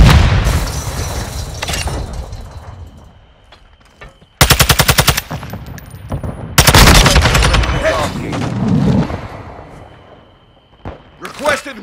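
Call of Duty: Modern Warfare II Team Deathmatch firefight on PS5, with a loud burst of rapid machine-gun fire, a heavy blast, then more sustained automatic fire and booms, with game voices calling out between.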